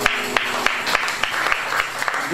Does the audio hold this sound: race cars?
no